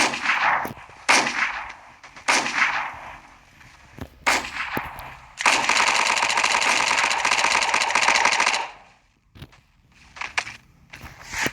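Blockman Go Bullets Fly game gunfire from an explosive gun with heavy blasts, several short bursts followed by a long sustained roar of firing, loud and close, with brief quiet gaps between.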